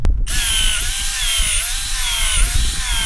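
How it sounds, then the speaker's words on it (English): A power drill whines steadily at high pitch after a brief start, biting continuously into an oak log with a constant, close, loud grinding tone. "So you're going to want to drill your holes in a diamond pattern"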